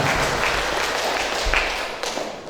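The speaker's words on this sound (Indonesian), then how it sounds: "Kita berikan tepukan untuk mereka berdua, ya." An audience applauds a couple at a wedding celebration, a dense burst of clapping that is loud at first and gradually thins, heard alone.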